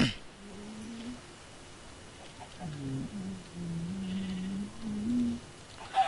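Sheep bleat in Minecraft, a few drawn-out cries one after another, moderately loud over a low steady background hum.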